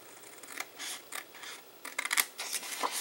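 Scissors snip through card stock for a Christmas card-in-a-box project, a quick series of close, crisp cutting strokes with short scratchy bursts and no voices.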